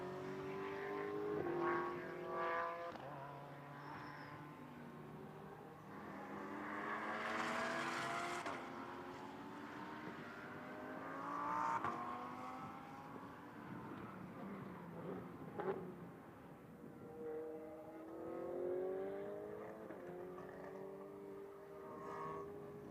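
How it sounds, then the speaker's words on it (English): A Ferrari 488 Challenge race car with a turbocharged V8 mounted behind the driver howls through gear changes at a race circuit, its engine note rising and falling repeatedly at moderate distance, with no talk over it. "Makes a good noise though, doesn't it, the 488 Challenge car."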